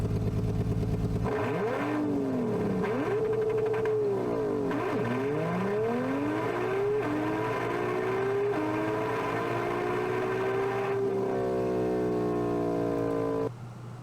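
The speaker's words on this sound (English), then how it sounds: "someone used Engine Sim to create an engine sound for a car mod" A simulated Porsche 992 flat-six engine, synthesized for a car mod, revs up and down repeatedly in smooth sweeping pulls before settling into a higher steady drone, clear and alone.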